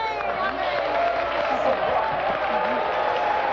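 Studio audience at a 1990 evangelical pastors' television program applauding and cheering, a steady crowd wash of clapping with faint voices mixed in, sustained at moderate loudness throughout.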